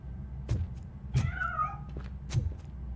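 A cat meows once in a Robocop game, a short wavering mew set between a few soft thumps.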